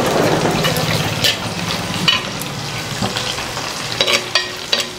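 Sliced onions fry with prawns in a hot pan, a steady bright sizzle with crackling spits and a few scrapes of a stirring spoon, close and loud, with no voices.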